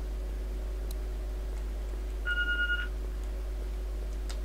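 A phone in The Walking Dead video game gives a short, steady electronic beep against a low constant hum in a quiet, deserted house.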